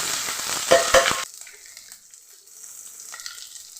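Garlic, green chilies and a large onion hit hot oil in a pan for a broad bean stir-fry, a loud crackling sizzle with stirring scrapes for about a second that then drops to a faint, quiet hiss.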